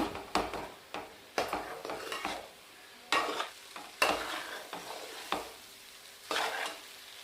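Coriander rice is stirred and mixed in a pan, a spoon scraping and turning the grains in repeated strokes with soft sizzling and occasional clinks against the metal, close and alone.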